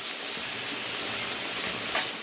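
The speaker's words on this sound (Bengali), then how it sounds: "আর এদিকে আমার মাংসের আলু ভাজা হচ্ছে" Potato pieces sizzle and crackle in hot oil in a pan for a chicken curry, a steady close frying hiss with small pops and no talking.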